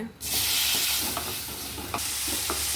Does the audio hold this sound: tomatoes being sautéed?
yes